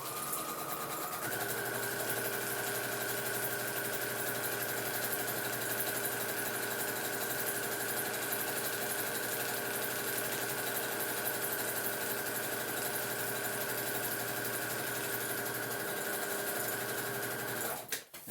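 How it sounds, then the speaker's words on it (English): A sewing machine runs steadily for about seventeen seconds, stitching a second seam line on a lightweight stuff sack, a continuous close mechanical whir with a steady hum that stops abruptly at the end. "we are going to stitch it twice"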